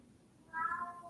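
A pet cat gives a single short meow, fairly close and clear against a quiet room.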